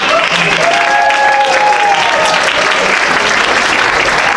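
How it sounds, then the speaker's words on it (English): An audience claps and cheers loudly for a few seconds, a dense burst of applause with some whistles and voices mixed in. "let's give a round of applause"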